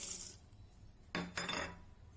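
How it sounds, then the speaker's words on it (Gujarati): Peanuts tipped into a steel mixer jar for a spicy curd chutney, two quick rattling clinks close up in a quiet kitchen. "ચટણી બનાવવા માટે મિક્સર જારમાં સિંગદાણા ઉમેરીશું"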